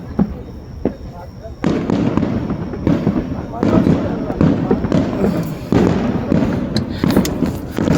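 Fireworks burst over and over at an Irving July 3 display, a string of booming and crackling explosions at close range, with people talking and calling out over them.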